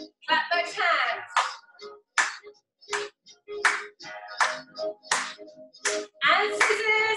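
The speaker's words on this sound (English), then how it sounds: "Clap those hands" Rhythmic hand clapping in a seated chair-based dance class, sharp claps falling on the beat over upbeat music with a singing voice, fairly close and loud.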